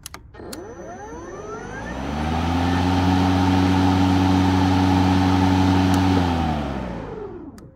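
An EGO 56V cordless battery lawn mower motor spins up to speed in normal mode, holding a smooth, loud electric whine for several seconds before winding back down, with no talking.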